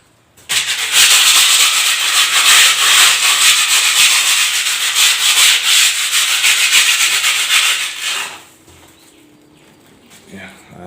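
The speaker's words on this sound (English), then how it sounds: "I'll be scrubbing the wall now." Close, loud scrubbing of a wall at a construction site, a continuous hissing rub that runs for about eight seconds, then stops, leaving quiet background.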